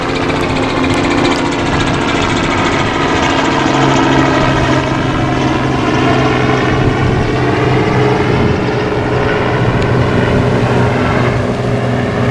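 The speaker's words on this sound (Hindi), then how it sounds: "सॉरी हेलीकॉप्टर दिखाता हूँ।" A helicopter flies over the sea at Barcelona, its steady loud rotor and engine drone filling the whole stretch without letup, no voices over it.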